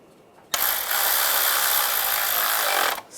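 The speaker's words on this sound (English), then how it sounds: "And put the screws in that hold the harness down." A power driver whirs continuously for about two and a half seconds, driving screws that hold a wiring harness down on a 1996–2002 Toyota 4Runner during a valve cover gasket job; close and alone, starting abruptly and cutting off.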